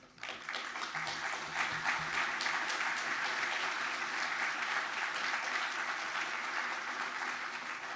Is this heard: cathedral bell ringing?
no